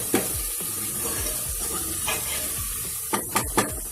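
Vegetables and tomato for dal khichdi roasting in a pan over a medium flame: a constant sizzle punctuated by regular scraping stirs, then a quick burst of sharp clinks near the end.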